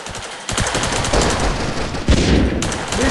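Rapid automatic gunfire in the mobile shooter Tacticool, loud and continuous bursts with dense repeated shots, a brief lull then renewed firing, close and dominant with no talk.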